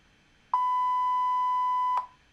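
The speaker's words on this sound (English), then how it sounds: "If you get a beep when you touch the base and the tongue of the bulb" A continuity tester gives a single steady electronic beep when touched to a light bulb's base and tip, clear and close, holding about a second and a half before cutting off, with quiet background otherwise.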